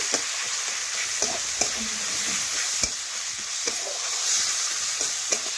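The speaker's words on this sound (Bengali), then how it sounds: "এখন আমি দিলাম আদা জিরে গোলমরিচ বাটা ও রসুন বাটা এ দেখুন এটাও ভালোভাবে মিশিয়ে নিচ্ছি" Ginger, cumin, pepper and garlic paste stirred into hot oil while cooking goat tripe, giving a steady sizzle with scattered scraping clicks of the spoon against the pan.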